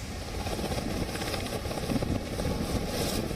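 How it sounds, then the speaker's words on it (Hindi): A Border Security Force helicopter flying over a Delhi police training centre near Najafgarh, its rotor thumping steadily with a constant engine whine, loud and close throughout. "यह है बॉर्डर सिक्योरिटी फोर्स का हेलीकॉप्टर"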